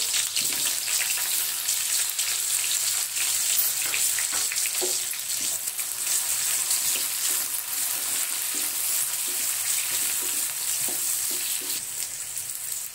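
Onion and capsicum sauté in a ladleful of hot oil with a steady bright sizzle, punctuated by intermittent stirring clatters.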